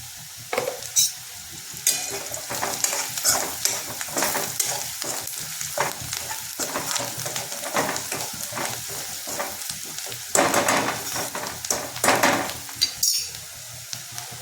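Chopped ridge gourd fries with turmeric as it is stirred around the pan, with a continuous sizzle, repeated spatula scrapes and occasional metal clinks against the cookware.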